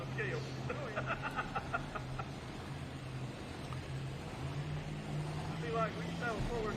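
Modified pulling tractor at full throttle during a mini modified class tractor pull at a state fair, a steady distant engine drone with a low sustained tone running under crowd noise and talk throughout.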